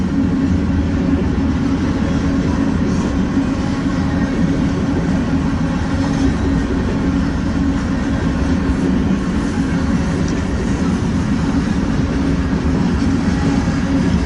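Freight train rolling through Fremont, Nebraska in freezing weather, a steady, loud, continuous rumble of rail cars with faint rhythmic clatter, sustained close by for the whole stretch with no talk.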